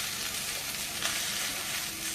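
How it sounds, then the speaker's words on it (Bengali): Pumpkin curry sizzles steadily in a hot pan as it is stirred after salt is added, a continuous close frying hiss with small scraping variations and no talking. "এবারে কুমড়োটা কষিয়ে দিয়েছি,"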